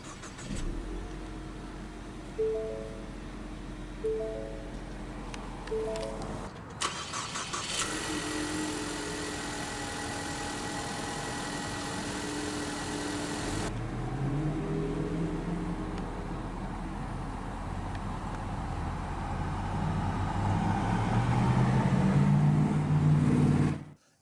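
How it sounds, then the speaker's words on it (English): A 2015 Ford Mustang EcoBoost Premium Fastback with push-button ignition starts with a loud burst after a quiet stretch, then settles into a steady idle with a slight rise in pitch late on, heard alone with no speech. "let's go ahead and start the engine"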